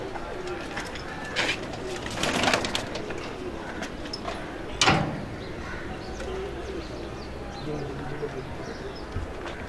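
A green-necked high-flying pigeon coos softly in a loft, the low burbling calls mixed with scattered wing flaps and clatter, while someone talks over much of it.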